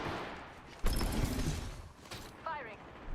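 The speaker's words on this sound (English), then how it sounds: "Firing." Gunfire in an online shooter video game, a few loud bursts of shots with a sharp blast near the start, mixed with game effects while a player talks.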